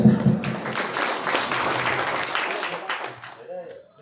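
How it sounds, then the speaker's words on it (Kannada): Audience applauding loudly at a village gathering in Kolur, a dense wash of clapping that holds steady for about three seconds and then tapers off, with a voice starting to speak as it fades. "ಒಂದ್ಸಲ ಜೋರಾದ ಚಪ್ಪಾಳೆ"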